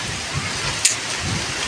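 Steady rain falls during the rainy season, a dense even hiss of drops with low rumbling underneath and one sharp brief tap midway; no voices.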